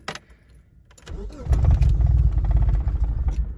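A car with a cold-start problem cranks after the key is turned in the ignition, with a short key rattle first and then a loud, steady engine rumble filling the close-up recording.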